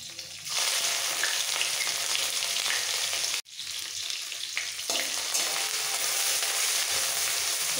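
Grated ginger and slit green chillies sizzle in hot oil in a pan for a paneer curry, a loud continuous frying hiss broken once by a brief pause, with faint stirring.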